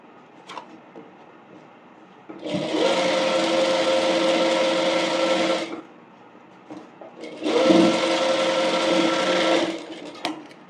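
A sewing machine stitches a fabric bonnet in two separate bursts of fast, even whirring, each lasting about three seconds, with a quiet pause between them.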